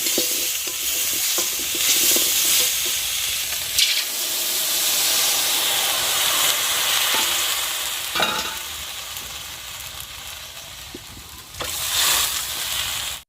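Ginger fries in oil in a pan, a loud continuous hissing sizzle with stirring, swelling in bursts of sharper spitting now and then.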